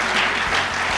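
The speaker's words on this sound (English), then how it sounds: "Give yourselves a round of applause." An audience of company staff applauds themselves in a short burst of thick, continuous clapping that is loud and close.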